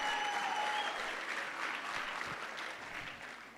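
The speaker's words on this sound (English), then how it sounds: "Another round of applause for Mr." A crowd at an awards ceremony gives a round of applause, dense sustained clapping from a sizeable audience, fairly distant and even, tapering slightly at the close.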